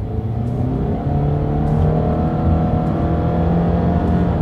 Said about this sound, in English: that boxer engine definitely gets up there